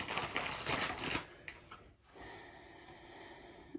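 A fancy plastic bag holding cross-stitch patterns crinkles loudly and close for about a second, followed by quieter rustles and a soft rattle as handling slows, with no talk.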